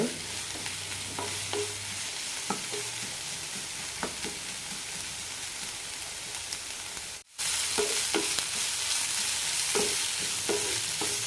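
Sliced onion sautéing slowly over a low flame, a steady soft sizzle broken by occasional spoon scrapes and stirs, with a brief dropout midway before the gentle frying resumes.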